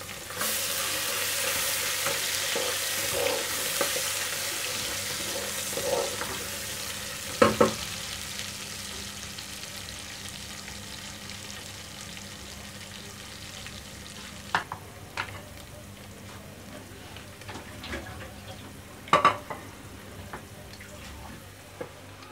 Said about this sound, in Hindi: अब इसमें डालेंगे लहसुन और अदरक का पेस्ट